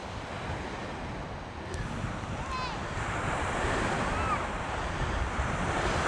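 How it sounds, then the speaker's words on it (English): Waves wash steadily onto a beach at Park Point in Duluth, Minnesota, a broad continuous surf roar mixed with gusty wind on the microphone and faint, brief bird calls. "It's a nice beach."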